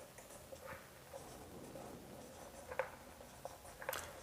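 A pen scratches across paper in quiet, uneven strokes while handwritten accounting entries are made, with a few sharper taps and ticks toward the end.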